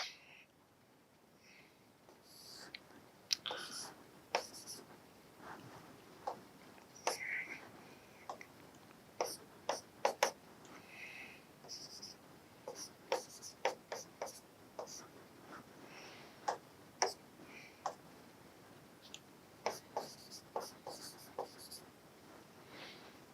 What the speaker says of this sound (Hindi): अब यहां लिखना चाहता हूं मैं